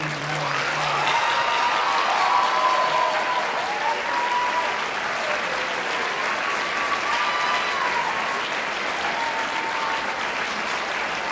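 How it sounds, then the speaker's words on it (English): A school concert audience applauds band booster board members standing at a spring symphonic band event, sustained broad clapping filling the hall at steady volume for the full span. "let's give them a round of applause"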